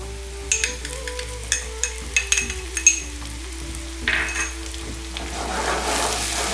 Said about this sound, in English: A little bit you have to fry it,